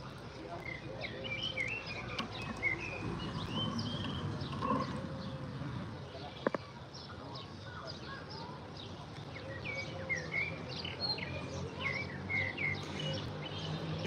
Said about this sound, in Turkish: arkadaki kuş sesleri çok güzel